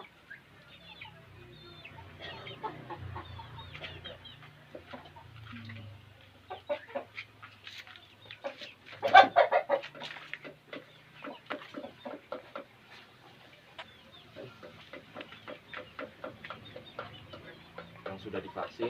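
Turkey calls and clucks from a bird being handled for eye-drop vaccination, with background rustling and a sharp squawk midway; talk drifts in the background.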